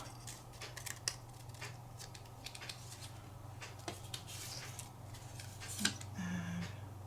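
Scissors trimming small craft cards for a junk journal, a few crisp snips and paper rustles up close over a steady low hum.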